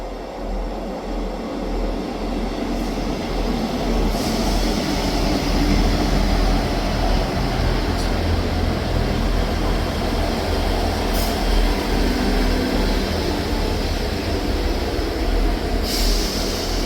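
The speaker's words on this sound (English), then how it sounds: "Departing out now is the 1638 ScotRail service from Edinburgh Waverley to Leven." A four-carriage ScotRail class 158 diesel unit to Leven departs with a steady, continuous engine drone and rail rumble, close and fairly loud, with faint periodic clicks over the wheels.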